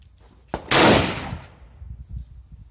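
A Mauser M48A bolt-action rifle fires a single loud shot of 1953 Turkish surplus 8mm ammunition outdoors, with a sharp crack and a short fading boom, preceded by a softer click.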